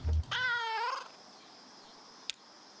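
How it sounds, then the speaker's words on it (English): A cat in the video game Kentucky Route Zero gives a single clear meow after a short thump, followed by quiet ambience and a brief faint click. "There's just a second cat chilling around and we never interact with him."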